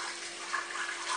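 Blended poultry soup pouring back into a pot, a steady liquid gush running evenly throughout, moderately close.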